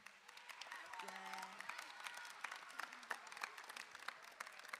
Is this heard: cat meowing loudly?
no